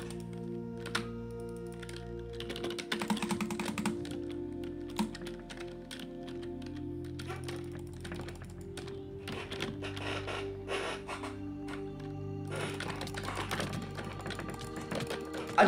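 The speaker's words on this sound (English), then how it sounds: "I was clicking, but my mouse didn't register me clicking." Rapid clicks and taps from a computer mouse and keyboard at a desk, short dry clicks scattered through steady close-up tapping over a low constant hum, with a burst of denser clicking near the end.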